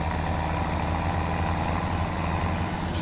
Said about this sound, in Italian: fa un po' fatica il trattore a trasportare tutto questo peso.